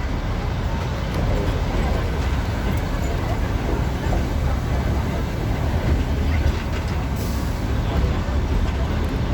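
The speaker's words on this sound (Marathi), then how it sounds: "ट्रेन" A train at Matheran hill railway station in Maharashtra gives off a steady, loud, low rumble that carries on without a break, with some faint background noise mixed in.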